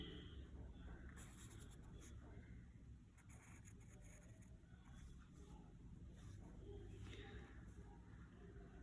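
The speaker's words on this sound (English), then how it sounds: "I will be drawing using a pencil." A pencil scratches across paper while a chemistry structure is drawn, with faint, intermittent rubbing strokes at a low level.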